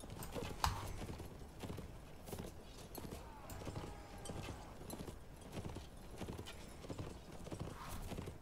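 Hooves clip-clop in a fast, continuous patter as horse archers ride in the Mount and Blade video game, faint and even throughout with occasional whinnies.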